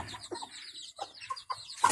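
Short clucks and peeps from a young chick, a few quick close calls in a brief burst with some rustling at the end.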